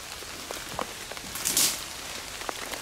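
Steady rain falls during a winter freeze bow hunt in Texas, a continuous hiss of drops with a few louder patters and one brief splash-like burst midway, no talk.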